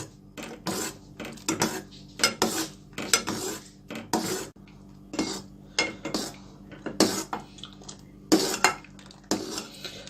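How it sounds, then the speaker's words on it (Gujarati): A spoon scrapes and clinks against a pan while mango ice cream mixture is stirred over a gas flame, a series of close, uneven metallic strokes with short pauses between them and no talking. "આપણે 10 મિનિટ્સ થઈ ગઈ છે આ મિક્સરને કન્ટિન્યુ સ્ટર કરતા"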